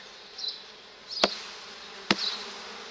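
Agitated honey bees buzzing around an open hive during an inspection, a steady close drone with louder passes near the ear and two sharp knocks from the hive tools.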